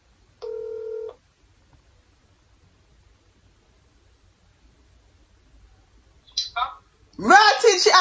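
Phone tones while calling someone back: a single short steady tone, then silence, then a brief burst of electronic tones, followed by a person starting to talk.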